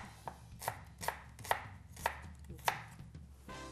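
A knife chops onions into half-moon slices on a cutting board, six crisp, evenly spaced thuds close up and clear, with no talking.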